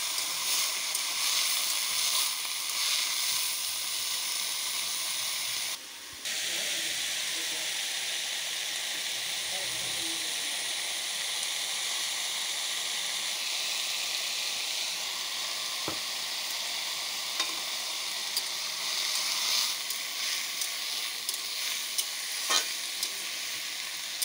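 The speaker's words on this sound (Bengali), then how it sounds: "আমি আলুগুলোকে লাল লাল করে ভেজে নেব।" Potatoes frying in hot oil for a small-fish recipe, a steady close sizzle with occasional stirring clinks, continuous and fairly loud throughout.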